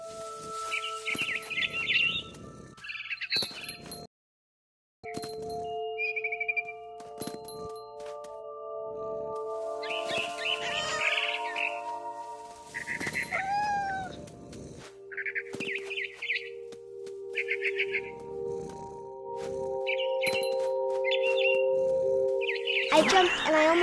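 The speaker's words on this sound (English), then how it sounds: "Then I heard chirping outside my window. It was a barn swallow going back to her nest." A barn swallow in the video game What Remains of Edith Finch chirps in short, repeated bursts of bright twittering over sustained musical tones, with a brief silent gap early on.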